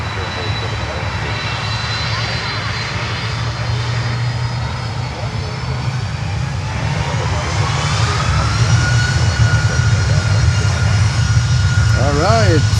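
A Convair 5800 aircraft at Miami airport gives a steady, loud engine roar that swells slightly toward the end, with voices faintly in the background.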